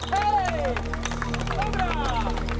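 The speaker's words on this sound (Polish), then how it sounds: "Poklaszcie ludziom, no poklaszcie ludziom!" A crowd applauds at an outdoor Vistula river cleanup event, scattered clapping mixed with cheers, shouts and chatter.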